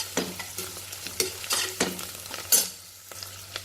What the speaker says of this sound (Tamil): இது கூட கொத்தமல்லி தழை புதினா தழை எல்லாம் சேர்த்துக்கலாம் சேர்த்துட்டு நல்லா வதக்கிக்கலாம்